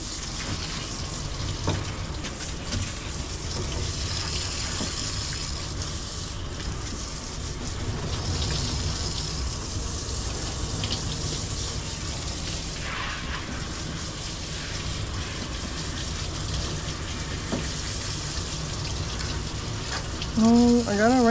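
Tap water running steadily while a dog is rinsed during a home grooming bath, a continuous close hiss of flowing water, with a brief voice near the end.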